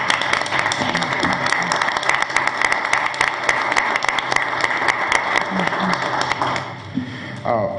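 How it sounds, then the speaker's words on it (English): An audience at a county school district board meeting applauds with a steady wash of many hands clapping that lasts several seconds and then tapers near the end, with faint voices underneath. "Let's give them a round of applause."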